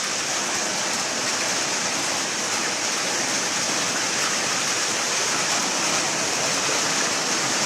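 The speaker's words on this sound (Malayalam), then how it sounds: "ഇവിടെ രാവിലെ തന്നെ ഗംഭീര മഴയാണ്" Heavy morning rain pours down steadily, a dense, unbroken hiss of water that stays loud and even from start to finish with no voices over it.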